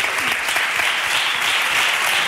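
A TV studio audience claps for Sergio, a caricature artist, in a brief burst of dense, steady applause that fills the room without pause.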